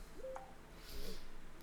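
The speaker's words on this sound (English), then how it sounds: "Sorry, that's just my phone." A mobile phone notification chimes briefly indoors: a couple of short, bright electronic tones, the second softer, over a quiet room hum, with no talking.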